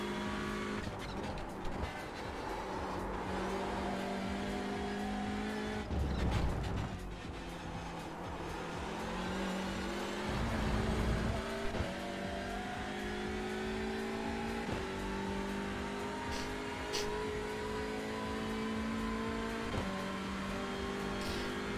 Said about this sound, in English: I need to get used to driving the Elantra